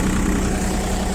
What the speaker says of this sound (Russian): Можно спокойненько ехать и ставить трактор на место.